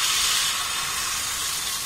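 Pitha batter sizzles on a hot oiled tawa, a steady bright hiss of frying that holds evenly close by with no other sounds.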